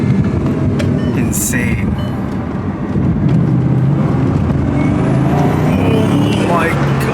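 A Ferrari 812 V12 sports car with carbon wheels roars loudly and steadily on the street nearby, a dense broadband engine rumble that builds toward the end while people exclaim over it.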